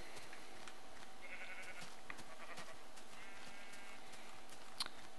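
Sheep bleat in a Minecraft game, several short wavering bleats spread over a few seconds at moderate distance, set against a quiet background hiss with soft clicks.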